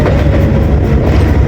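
The Karachi Express rumbles loudly and steadily up close as it accelerates, with a dense low roar of wheels and rolling stock and no voices.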